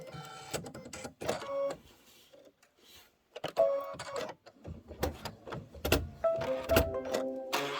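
Embroidery machine running a placement stitch, a quick mechanical needle clatter in bursts with brief pauses, close and fairly loud.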